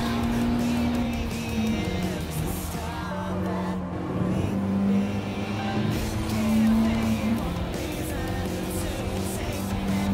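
A high-revving racing car engine in the video game Gran Turismo Sport drones continuously, pitch rising and falling through gear changes, with someone talking over it.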